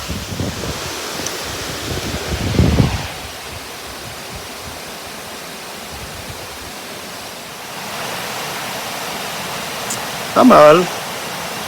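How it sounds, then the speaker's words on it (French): A waterfall at a tourist site in Guam, heard as a constant broad rushing roar in the background, with brief speech from people nearby. "Là, c'est l'accès à la cascade numéro 2."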